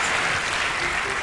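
An audience applauding as a guest is welcomed onto the stage at an illusion show, a dense, steady burst of many hands clapping close by.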